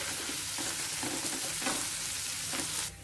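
Chopped onions fry in oil with a broken dried red chilli and curry leaves for a bottle gourd curry, giving a steady close sizzle with occasional stirring scrapes; the sizzle drops away near the end.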